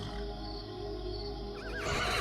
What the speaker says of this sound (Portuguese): O cavalo sai em disparada em direção à fazenda.